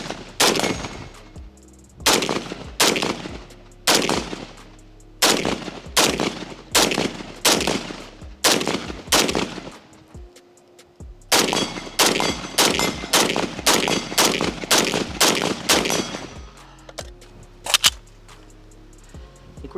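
A DSA FAL rifle fires a magazine in loud, sharp bursts of gunshots, mostly rapid pairs and short strings spaced by brief pauses, close and echoing outdoors, with a longer gap midway before firing resumes and tapers to single shots.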